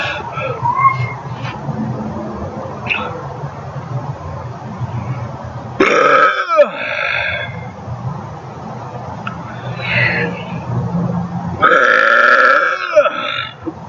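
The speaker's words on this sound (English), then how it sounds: "As usual, I will say 3 more burps" Two loud, drawn-out burps, one near the middle and one near the end, made close up by a person deliberately burping, with quieter noise and faint background sounds between them.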